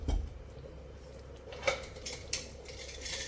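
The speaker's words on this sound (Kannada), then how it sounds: "ಈಗ ಮುಚ್ಚಳವನ್ನು ಮುಚ್ಚಿಡ್ತಾ ಇದ್ದೀನಿ" A lid goes onto a pressure-cooker pot of one-pot biryani with a light metallic clank, followed by a couple of faint clinks against a quiet background.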